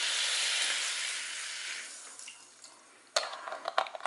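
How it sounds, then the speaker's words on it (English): Vegetable broth poured into a hot pan sizzles loudly at first and then fades to a soft hiss, followed by a few sharp clatters and taps up close. "And what I am going to do is add some more veggie broth"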